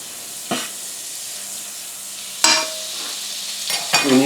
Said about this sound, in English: a 40 to 50 grams of butter, melt the butter properly.